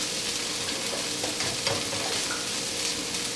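Potato hash with refried beans simmering and being stirred in a pan gives a steady, soft broadband sizzle with a few faint scraping stir sounds, close and continuous with no talking.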